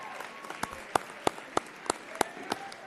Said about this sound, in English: Round of applause for this group.